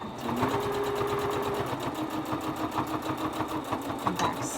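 A sewing machine back-stitches a pleated fabric mask, its needle hammering in a rapid, even rhythm close up that runs without a break from start to finish.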